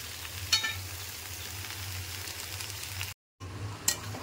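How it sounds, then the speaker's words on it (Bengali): Ridge gourd, potato and beans fry quietly in a pan, a low, even sizzle with a couple of sharper stirring clicks and a brief drop to silence. "সবজিগুলো আমার প্রায় ভাজা হয়ে এসেছে।"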